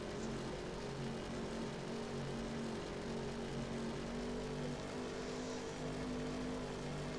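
Steady, fast-running car engine in a kart racing video game, a continuous droning hum with a constant pitch, driven at speed while going backwards, with no pauses or talking.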